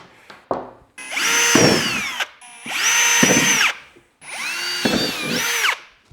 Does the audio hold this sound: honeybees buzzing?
no